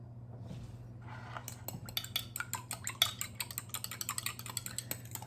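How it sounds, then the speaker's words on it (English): Custard mixture for a churros flan whisked in a bowl, quick rhythmic metal clinks of the whisk against the sides, fairly close and steady after a few soft taps. "And then I want to whisk this up."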